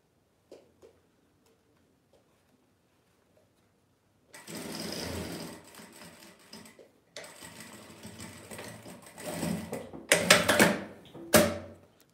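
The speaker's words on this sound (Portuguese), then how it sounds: "Comprei um eletrônico, um overlock. Estou amando trabalhar nela." Electronic overlock sewing machine stitching strips of fabric scraps, starting after several seconds of near silence, then running in steady bursts with brief pauses and a sharp final rattle.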